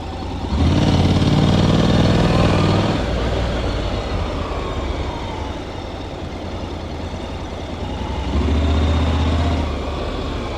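Honda NC750X DCT motorcycle pulling away. The engine runs loud and close, with a steady low drone that swells at the start and again near the end, and no talk over it.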